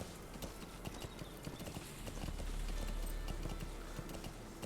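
Horse hooves clip-clop steadily in the video game Metal Gear Solid V: The Phantom Pain, a brisk, continuous rhythm of hoofbeats that grows a little louder partway through, with no talking over it.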